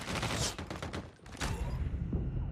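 Shotgun blasts in Call of Duty Mobile, several loud broadband bursts in quick irregular succession with a short lull midway, dense and close.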